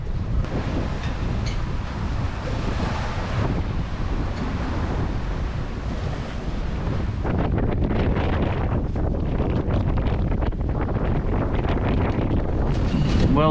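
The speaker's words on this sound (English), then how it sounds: "the wind has steadily picked up all night" Strong wind gusts roar across a sailboat at sea in the mid-Atlantic, with continuous loud buffeting and rushing water and waves along the hull, steady and dense throughout.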